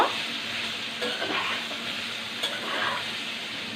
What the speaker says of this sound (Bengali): এগুলোকে এখন আমি খুব ভালোভাবে একটু মিশিয়ে নিব।